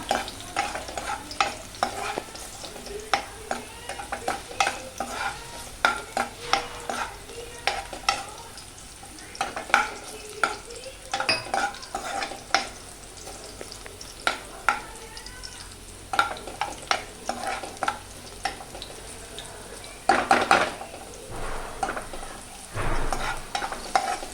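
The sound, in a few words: onions frying and being stirred in a pan for pav bhaji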